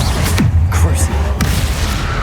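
Crucio curse spell cast in Hogwarts Legacy, a loud magical burst with a booming low rumble and bright crackling flashes, continuing steadily over about two seconds.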